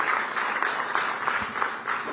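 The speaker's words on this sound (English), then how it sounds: "Thanks for clapping." Audience applause breaking out during a ministerial speech in Andhra Pradesh, a steady broadband clatter of many hands held at an even level for about two seconds, with no voice over it.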